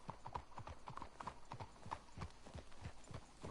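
Horse hooves clip-clop in a steady, brisk rhythm in the Red Dead Redemption game, close and even, with a faint whinny-like tone mixed in.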